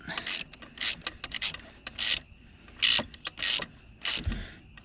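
A ratchet snugs a spark plug on a 2006 Dodge Ram, clicking in about eight short, close bursts with brief pauses between strokes.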